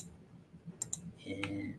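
Sharp mouse clicks on a button while debugging JavaScript in Chrome Developer Tools, two quick close clicks followed by a brief faint tone, with no talk over them.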